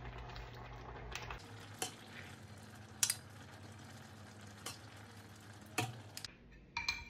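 Mongo stew with sweet potato tops, parsley and green onions being stirred in a pot, soft spoon scrapes and clinks over a low steady simmer, with a few sharper knocks against the pot.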